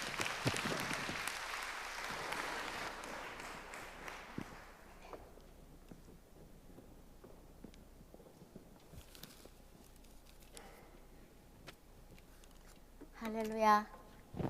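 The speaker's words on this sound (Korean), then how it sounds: "우리 박수로 환영해 주시겠습니다" Congregation in a church clapping to welcome a woman elder to the pulpit, a brief burst of applause at the start that fades into quiet room noise, followed by a voice near the end.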